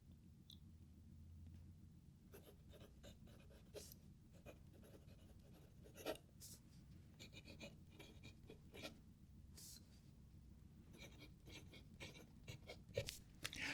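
A fountain pen with a medium nib writes on paper, making quiet, close scratching strokes in uneven bursts with brief pauses between words. No one speaks.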